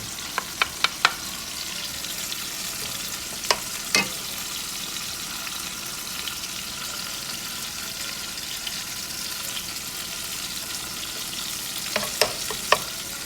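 Ginger, garlic, onion and green chili sautéing in oil for Kerala-style fish molee give a steady close sizzle, broken by a few sharp utensil scrapes and taps, with no talking.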